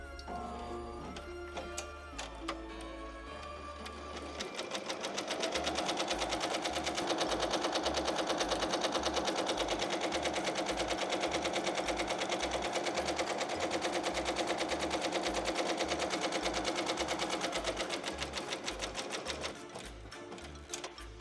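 An embroidery sewing machine stitches an appliqué onto a T-shirt, starting with a few low mechanical clunks before settling into a loud, rapid, continuous needle chatter that runs steadily and then slows to a stop.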